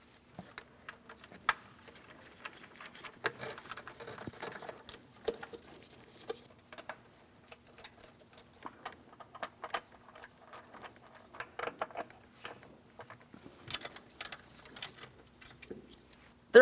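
Mounting bolts being threaded by hand into a variable valve timing solenoid on a 2015-2025 Ford Transit 250, faint close ticking and light metallic clicks in irregular clusters over quiet background.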